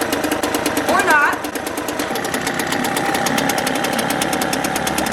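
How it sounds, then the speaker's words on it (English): A small two-stroke outboard boat motor idles low and steady with a rapid, even putter throughout, a voice speaking briefly near the start. "There we go, it's idling pretty low."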